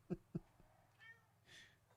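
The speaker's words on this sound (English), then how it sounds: "That's our cat Prince." A pet cat named Prince gives two short, fairly clear meows close by in a room, followed by quieter household shuffling and a soft hiss-like rustle under a steady low hum.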